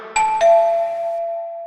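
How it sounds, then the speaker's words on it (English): A doorbell rings with two quick chimes, a higher tone followed by a lower one that rings out and fades, clear and close, with a second press starting at the very end. "My hands were shaking as I rang the doorbell."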